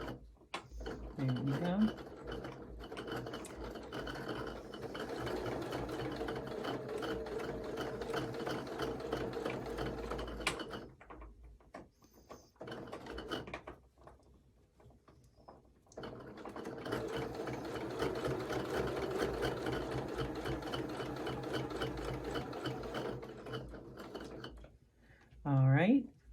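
Sewing machine stitching a fabric ornament, two long runs of rapid, rhythmic mechanical stitching separated by a quiet pause, with a person talking briefly at the start and end.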